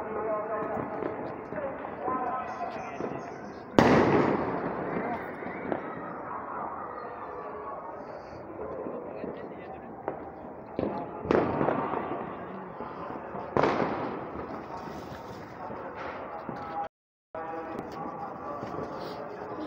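New Year fireworks and firecrackers burst across a rooftop scene: several sharp, loud bangs stand out over a dense crackling wash, with people talking throughout.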